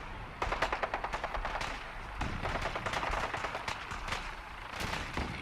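Sustained bursts of automatic gunfire during an attack in Fallout 4, loud rapid rattling volleys that run almost continuously with short gaps, no talking.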